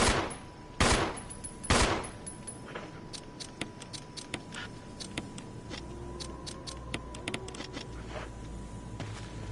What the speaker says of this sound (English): To just go on ahead and just straight up just shoot zombies